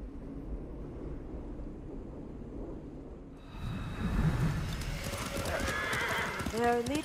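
Horse hooves galloping in the Ghost of Tsushima video game, a steady drumming clip-clop under ambient wind, with a whinny near the end and people talking over it.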